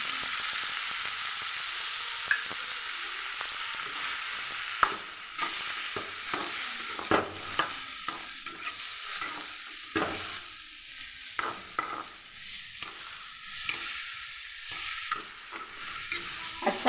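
Tamarind pickle being stirred in a pan, a soft sizzle under repeated scraping and clinking spoon strokes at an irregular pace, close but fairly quiet.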